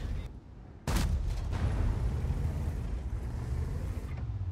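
A tank cannon in an online tank battle game fires one sharp, booming shot that hits suddenly after a quiet lead-in, then a long rumbling tail and engine drone continue.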